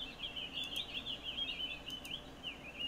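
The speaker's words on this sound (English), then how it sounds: "Those birds are loud, aren't they?" Birds in the video game Cube World chirp in a constant high twittering chorus, fairly loud and alone over a soft ambient background hiss.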